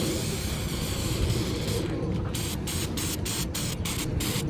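Paint stripper sprayed onto a car firewall gives a steady, close hiss that runs without a break for the whole stretch, with a few short breaks in the spray sound near the end.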